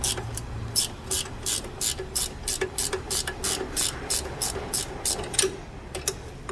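A ratchet wrench clicks in quick, regular bursts, close and crisp, while brake bolts on a 2010–2014 Subaru Outback are tightened, with about a dozen evenly spaced strokes.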